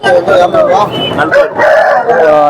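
Roosters crowing among the assorted breed cockerels at the Bangarpet hen market, loud and overlapping, with people talking and bargaining over the crowing throughout.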